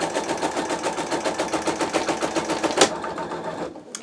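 A Sew Tech PA116M magnetic embroidery hoop holds fabric and batting as an embroidery machine stitches in a fast, steady, close rhythmic patter, ending abruptly with a brief click and near silence.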